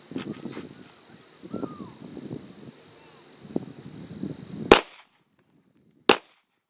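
Two handgun shots fired as a control pair during warm-up drills, each a sharp, loud crack about 1.4 seconds apart, following quieter talking and wind.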